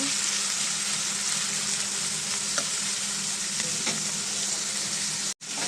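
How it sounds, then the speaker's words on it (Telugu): Potato pieces frying in oil for a curry, a steady loud sizzle running throughout with a few faint stirring clicks and a brief drop-out near the end. "ఇది ఆయిల్లో మనం కట్ చేసుకున్నాం ముక్కలు వేసి వేసుకుందామండి ఇక్కడ కొంచెం బాగా ఫ్రై అవ్వాలి"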